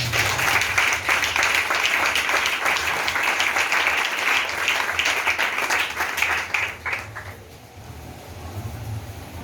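A church congregation applauds during a worship service, with loud, dense, sustained clapping that tapers off toward the end.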